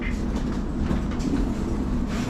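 A London Underground Metropolitan line train running near Moor Park, a steady loud rumble of wheels and carriage noise with faint rhythmic clatter throughout.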